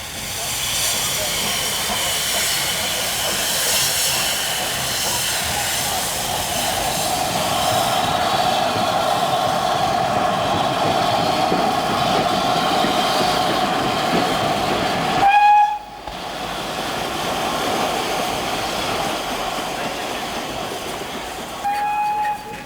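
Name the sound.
LMS Princess Elizabeth steam express locomotive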